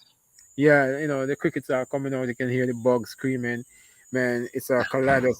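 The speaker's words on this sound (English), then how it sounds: "the crickets are coming out. You can hear the bugs screaming." Crickets chirp outdoors in the mountains as a steady, high, continuous trill that runs beneath someone speaking close by.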